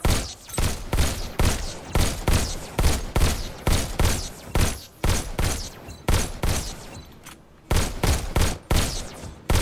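Automatic gunfire in the VR video game Robo Recall: rapid, evenly spaced shots in a loud continuous stream, broken by a short pause near the end before firing resumes.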